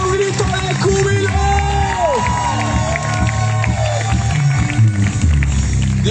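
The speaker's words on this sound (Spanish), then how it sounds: "Alguien que dé un grito de júbilo." A church congregation shouts and cheers in joy during a sermon, a dense crowd roar with whoops and raised voices over a loud steady background, with music-like tones running underneath.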